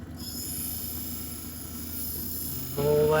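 A lapidary grinding wheel shaping a Spencer opal gives a steady, close whirring hum that holds even, then grows louder and brighter near the end as the stone meets the wheel.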